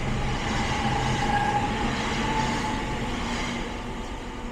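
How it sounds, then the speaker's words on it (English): A train rumbles past near a canal boat moored in the city at rush hour, a loud continuous roar of rail wagons with faint clickety-clack, slowly easing toward the end with no talk. "Another train going past."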